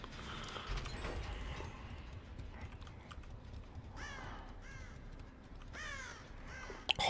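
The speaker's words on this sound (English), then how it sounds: "why is there so many birds in here?" Crows cawing in Dead by Daylight, heard as several faint, scattered caws over a low, steady ambient rumble, with light footstep-like taps in the background.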